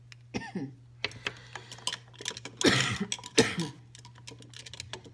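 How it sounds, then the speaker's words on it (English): A person coughs several times, including a heavy, harsh burst in the middle, between small clicks and light tapping sounds under a steady low hum. "I'm sorry, I'm still coughing."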